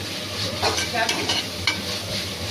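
Garam masala paste roasts in a pan for country-chicken biryani, with a steady, close sizzle broken by a few brief scraping strokes as it is stirred.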